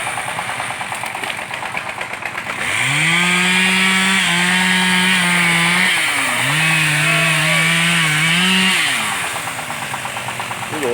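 A chainsaw roars close by as it bites into wood, its engine pitch dropping and holding under load through two long cuts before easing back toward idle.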